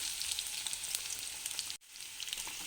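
Onion with cinnamon and cloves fries in oil in a pan for chicken curry, a soft, continuous crackling sizzle heard close, briefly cut off for a moment before resuming.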